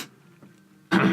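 A voice mimics someone clearing their throat, a quiet rasp followed by a sudden loud, harsh burst at the end.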